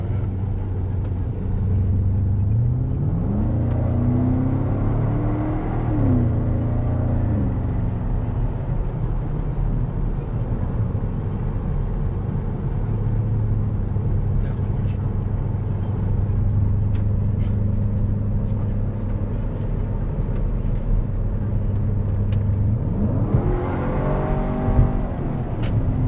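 Porsche Cayenne Turbo fitted with a Tubi exhaust, a steady deep engine rumble held close by, with rising revs near the start and again near the end.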